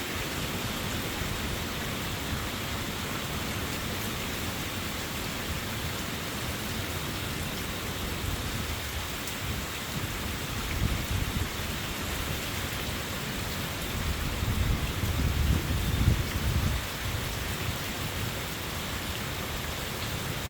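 Heavy rain and wind lash down at night during Hurricane Helene, a dense continuous roar of falling water that swells a little louder partway through, with no voices.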